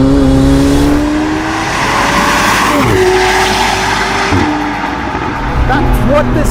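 A Novitec-tuned McLaren 765LT Spider supercar accelerates hard, its loud close engine note rising through the gears with brief dips at the shifts, and a person talking over part of it.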